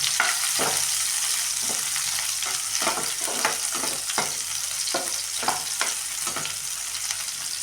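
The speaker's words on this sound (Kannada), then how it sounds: "ಚೆನ್ನಾಗಿ ಎಣ್ಣೆಯಲ್ಲಿ ಈರುಳ್ಳಿ ಫ್ರೈ ಆಗಬೇಕು" Onions fry in hot oil for a chicken fry dish, a steady hiss of sizzling punctuated by regular scraping strokes of a spatula stirring the pan, with no talking.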